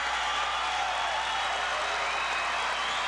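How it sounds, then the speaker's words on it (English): A crowd at the 1989 IHSA individual state wrestling championships cheers and applauds in a steady, dense roar that holds at one level throughout, with no single voice standing out. "the crowd starts to cheer with eight seconds to go"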